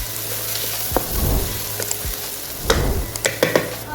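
Steady, loud sizzle of onions frying in hot oil, with occasional scraping stirs of a spoon against the pan.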